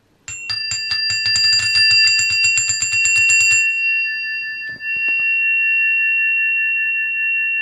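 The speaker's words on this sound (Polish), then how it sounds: "Także będą dwa dzwonki." Two bright metallic bells ring out, the first in a rapid run of repeated strikes that then hangs in a long sustained ring while a second tone joins and lingers, close and loud with no talking.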